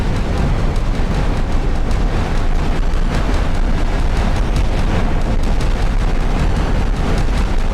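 Sustained naval gunfire and shell explosions in the naval combat game Sea Power, a dense continuous roar of booms and rumbling blasts blending into one loud, unbroken wall of noise.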